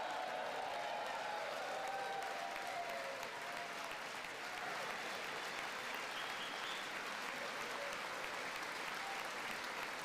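Democrats clap their hands in a dense, sustained round of applause from a large crowd, steady for the whole stretch and heard from some distance.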